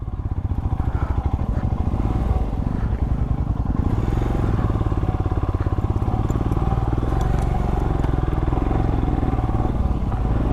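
A motorcycle engine labours hard and pulses with a rough, rapid chug while struggling up a steep mountain road, loud and close throughout with some rattling clatter and no talk.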